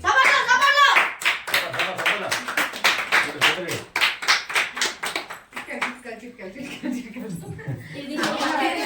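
Family members clap along at a Telugu dhoti and saree ceremony, rapid hand claps in a steady stream with children talking and laughing mixed in, the clapping fading midway and picking up again near the end.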